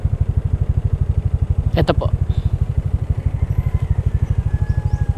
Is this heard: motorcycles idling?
yes